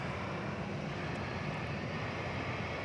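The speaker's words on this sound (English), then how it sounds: "there's another 757, this one from Minneapolis, St. Paul, flight" A Boeing 757 jet airliner from Minneapolis-St. Paul roars steadily on the runway at DFW Airport at night, a constant broad engine rumble with no other sounds.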